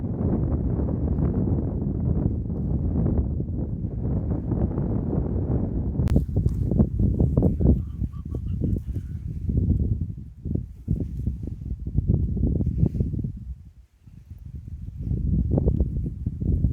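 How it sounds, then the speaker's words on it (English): Strong wind gusting against an MSR Access 1 tent at a summit wild camp, a loud, steady roar with buffeting and flapping that swells and dips throughout. "It's blowing a fair old wind outside actually."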